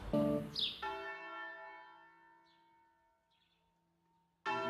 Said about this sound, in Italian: Anche oggi le campane suonano a morto.